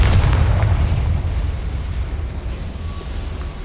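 Confringo fire spell explosion in the video game Hogwarts Legacy: a loud, deep boom right at the start that rumbles and fades over a few seconds, with no voices.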